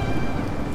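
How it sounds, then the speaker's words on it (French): A storm with steady rain and a low, rumbling wash underneath, pouring down; dense and continuous throughout the short moment. "Soudain, l'orage éclata et la tempête se leva."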